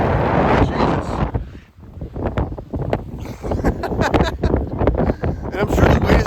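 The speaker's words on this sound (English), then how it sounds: "that wind blowing towards my face is really bad right now" Strong blizzard wind roars continuously into the microphone outdoors in Scarborough, Toronto, a loud buffeting rumble with gusty surges throughout.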